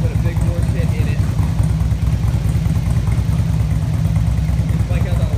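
A 2004 Harley-Davidson Ultra Classic motorcycle idles steadily up close, its low, lumpy engine rumble pulsing evenly and continuously at a constant loud level throughout.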